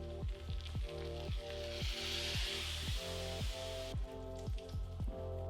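Crispy-skinned oven-roasted chicken, just pulled from the oven, sizzles and crackles faintly and continuously at close range, with a few soft clicks and a steady low hum underneath.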